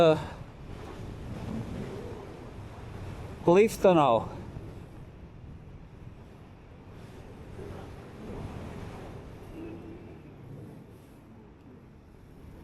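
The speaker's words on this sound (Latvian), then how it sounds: "te tas pats kaut kāds vējels ir, kaut kāda turbulence ir" Steady wind buffeting and turbulence roar during a flight near the Aiguille du Midi, a constant low rumble of air across the microphone, with someone speaking briefly and a sharper gust-like burst midway.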